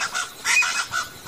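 An aracuã (chachalaca) calls outdoors in a run of loud, harsh honking notes, about four pulses in quick rhythm, clear and fairly close with no talk over it.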